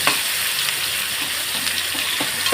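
Chopped onions fry in a pan with Kashmiri chili powder, giving a steady, close sizzle with a few soft stirring scrapes and no voices.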